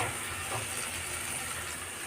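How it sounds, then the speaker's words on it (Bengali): Fried figs and potatoes sizzle in a spice masala over a low flame, a steady, even hiss with no voices. "এর উপরে এবার আমি যে ভাজা আলু ভাজা ডুমুরটা করে রেখেছিলাম সেটা দিয়ে আমি হালকা লো ফ্লেমে এটাকে ভালো করে কষাবো"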